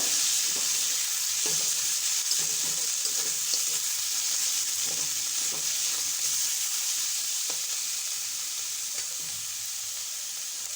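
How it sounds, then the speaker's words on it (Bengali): Stuffed pointed gourd (kakrol) frying in a pan, a continuous bright sizzle with soft intermittent stirring knocks, close and steady, no voices. "ভালো করে ভেজে নেব"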